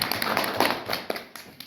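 An audience claps at a community centre performance, a short burst of scattered, light hand claps, close and irregular, fading after under two seconds.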